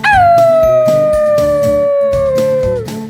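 A person imitates a wolf howling with one long, loud, sustained howl that slowly slides downward in pitch and fades at the end, alone without other talk.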